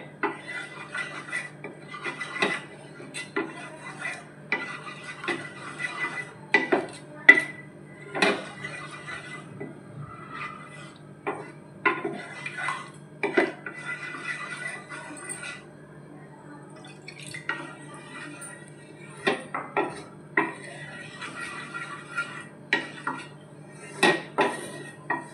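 A spoon stirs milk into white sauce in a pot, making irregular clinks and scrapes against the metal in close bursts with short quiet gaps between them.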